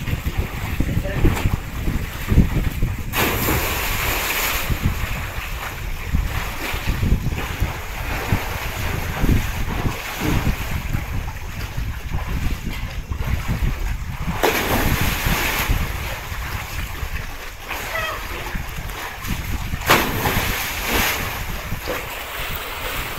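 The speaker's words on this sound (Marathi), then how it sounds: "अशा पटापट उड्या मारल्यानं विहिरीमध्ये असं एकदम पाणी असं खवतळते आणि मोठमोठ्या लाटा अशा सुरू होतात" Water in a well churns and slaps in big waves after people jump in one after another, a loud continuous rushing wash with repeated surges and wind buffeting the microphone.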